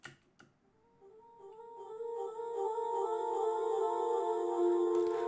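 A synth pad drenched in Valhalla Supermassive reverb swells in slowly after a couple of faint ticks, building into a wide, sustained shimmering chord that holds steady and washes out at the end.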